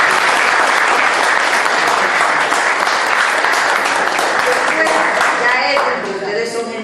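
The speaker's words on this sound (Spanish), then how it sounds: "Así que un aplauso." Lecture audience applauding after a talk, dense and close clapping that fills the room, holding steady before thinning out near the end as voices begin to come through.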